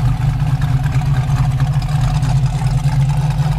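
Steady, loud idle of a 1965 Ford Mustang convertible engine heard up close, a deep continuous rumble with a smooth even pulse and no talking over it.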